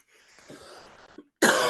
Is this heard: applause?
no